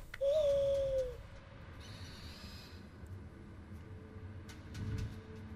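A single owl hoot from the Far Cry Primal video game rises clearly at the start, followed by quieter in-game ambience and faint rustling.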